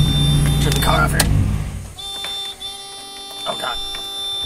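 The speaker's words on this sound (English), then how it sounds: "This is the sound the car makes when the key is in and the door is open" A Mazda Miata's key-in, door-open warning buzzer sounds as a steady electronic tone close inside the car, heard mostly alone after someone talks over engine noise at the start.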